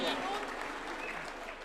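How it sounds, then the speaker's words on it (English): Applause from a crowd at a UDA National Governing Council gathering with President Ruto, a dense steady clatter of many hands that fades slightly over a short stretch. "A round of applause for Leader of Majority"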